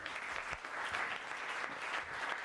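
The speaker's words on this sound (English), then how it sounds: "So please give yourselves a round of applause" A stand-up comedy audience claps steadily and loudly throughout, a dense wash of hand claps from a crowd with no voices rising above it.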